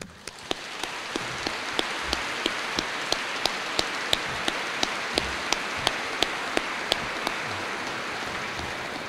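Applause from an audience at a military change of command ceremony for a US Air Force unit in Japan, a dense steady patter sustained for about nine seconds with a few sharper claps standing out.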